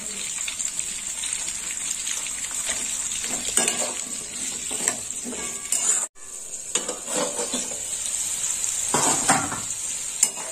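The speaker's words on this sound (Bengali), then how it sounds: "এই তেলে আমি কুঁদরিগুলো ভেজে নেব।" Ivy gourd (kundri) fries in oil in a pan, a loud continuous sizzle with stirring scrapes and utensil clinks, briefly dropping out midway before resuming.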